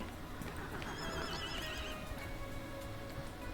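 Horses whinny and neigh in the ranch video game Ranch of Rivershine, with a drawn-out neigh near the middle over a steady bed of soft clip-clop hooves and ambient game noise, no talking.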